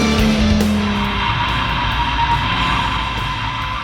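Stock tires on a Nissan Z squealing steadily on a race track as the car searches for traction, a loud continuous screech over engine and road roar with no break.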